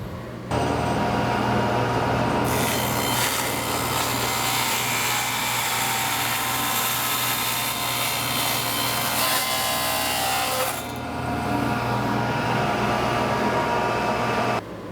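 A saw cuts through the long side of a dovetailed wooden box, a steady rasping stroke that carries on for several seconds before stopping.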